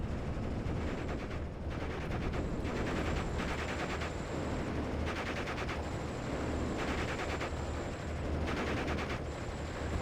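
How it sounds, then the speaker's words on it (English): Machine guns rattle in the WWII strategy game Steel Division 44. Fairly faint, steady bursts of gunfire repeat in a continuous distant battle din with no talking. "We got a lot of machine gun fire into the area."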